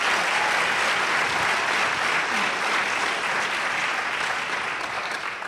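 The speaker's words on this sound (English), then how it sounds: "Could you give them another round of applause?" Audience at a coaches' panel event breaking into full, sustained applause, a loud, dense wash of many hands clapping that holds steady and tapers only slightly at the end.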